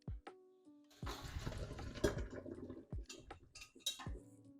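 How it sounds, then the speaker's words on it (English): Cooked noodles and their water poured from a pot into a kitchen sink, quiet irregular splashing and gurgling over a few seconds with faint knocks of the pot. "now we are going to drain this in the sink"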